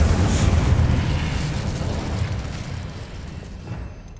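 A fiery Incendio spell blast from the Hogwarts Legacy video game: a loud, rumbling burst that swells at the start and then rolls on as a steady low roar, fading slightly toward the end, with no voices.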